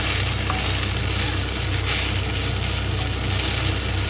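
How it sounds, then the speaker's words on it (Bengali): Boiled pasta frying in white oil in a pan, a steady, close, continuous sizzle with no talk. "সাদা তেল আর নুন দিয়ে পাস্তাটা সেদ্ধ করে নিয়েছিলাম, এটা ফ্রাই করে নিচ্ছি।"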